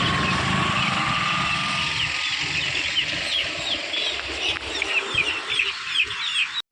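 Chickens and chicks cluck and chirp at a market stall selling fancy, fluffy and black chickens, a steady busy chorus of small calls over low background rumble and crowd noise.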